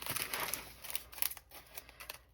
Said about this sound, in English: I usually cut off the corner and just put a couple in here.